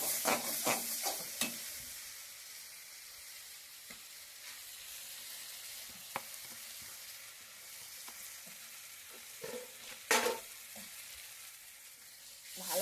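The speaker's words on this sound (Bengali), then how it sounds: "ভালো করে মশলাটাকে কষিয়ে নেব।" Ground spices with salt and turmeric sautéed in a pan, a quiet continuous sizzle with scattered stirring clicks and scrapes, close up and without talk.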